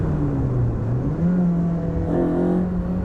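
An Ariel Atom's engine drones loudly on a race track, its pitch rising and dipping as the throttle is worked around a corner. The sound is continuous and close, with no talk.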